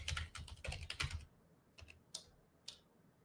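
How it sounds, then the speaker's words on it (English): Fingers typing on a computer keyboard nearby: a quick burst of clicking keystrokes, then a few sparse isolated taps in a quiet room. "I'm typing"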